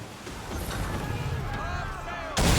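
Gunfire aimed at a ship in Assassin's Creed 3 rings out over a steady rumble of sea and wind, followed by a sharp loud blast at the very end.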